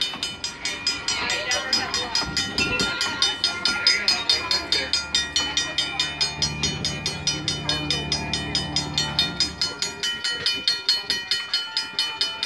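Rio Grande 464, a steam locomotive on the Huckleberry Railroad, passes through a village railroad crossing with rhythmic rapid chuffing and wheel clatter close by, a bell ringing over the top.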